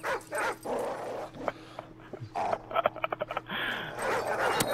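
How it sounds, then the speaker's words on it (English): Angry dogs barking and whimpering in the video game Modern Warfare 3 survival mode, with repeated sharp bursts of barks over game noise and a steady low hum. "You pissed those dogs off."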